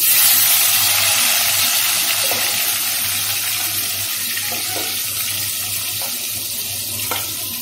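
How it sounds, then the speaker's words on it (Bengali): A tomato going into hot oil with whole garam masala for a pointed gourd dish, a loud, rushing sizzle that gradually settles into steady frying with a few soft pops. "গরম মশলাটা ভাজা হয়ে গেছে। এর মধ্যে দিয়ে দেব একটা টমেটো"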